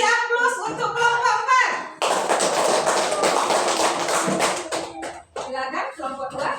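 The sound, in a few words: classroom applause for a student group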